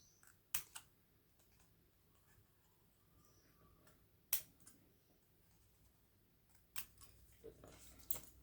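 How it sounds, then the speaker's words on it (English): Scissors cut patterned paper around the edge of a card piece, giving a few sharp, close snips spaced irregularly between quiet gaps, faint and without talk. "just keep going all the way around, just cutting it like that"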